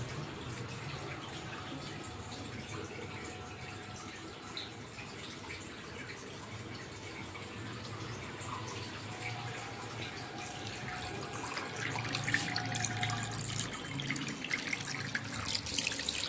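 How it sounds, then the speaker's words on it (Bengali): Water runs steadily from a tap into a sink during face washing, a soft continuous splashing that is faint and close and grows a little louder toward the end. "ভালো করে আমি মুখটা ধুয়ে নেব।"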